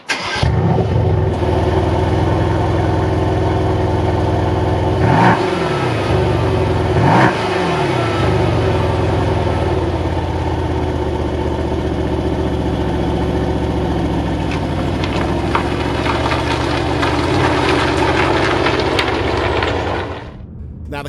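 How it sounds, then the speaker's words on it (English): A 2020 Mercedes C63S AMG wagon with a 4-litre twin-turbo V8 fires up loudly and settles into a deep rumbling idle. Two sharp blips of revving follow early on, then the engine idles steadily close by until it is shut off at the end. "Do you want to know what it sounds like to start an AMG V8?"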